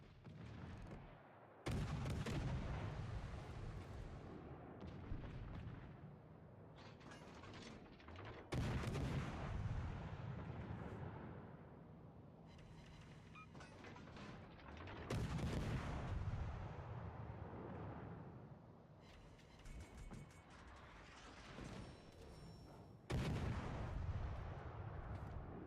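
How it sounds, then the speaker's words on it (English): Naval guns on the ship Clemson firing in a video game, loud booming salvos arriving in several bursts spaced a few seconds apart, each with a heavy rumbling tail, no talk. "Clemson shooting his guns."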